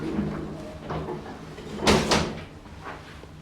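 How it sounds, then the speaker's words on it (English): Glass elevator doors slide shut with a brief soft whoosh and thud, close and moderately loud, over a low steady hum of machinery, inside St Martin-in-the-Fields, London. "Doors closing."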